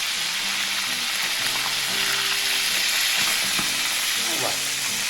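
Cooking oil sizzles steadily and loudly in a pan, a constant hiss with faint clinks and low tonal sounds in the background.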